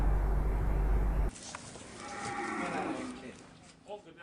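Cattle at a slaughterhouse holding pen for sacrificial animals, where goats are also kept, give a moo over loud wind and crowd noise after a sharp cut, with murmuring voices around them.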